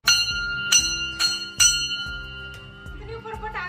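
A Shiva temple bell in a hill village in Uttarakhand rings several times, clear metallic strikes near and loud with long shimmering decays, followed by a few softer rings; a voice speaks briefly between strikes.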